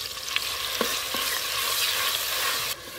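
Onion and garlic paste fries in oil for chicken biryani, a continuous bright sizzle with a few sharp spoon scrapes. The frying stays close and fairly loud, then eases slightly near the end.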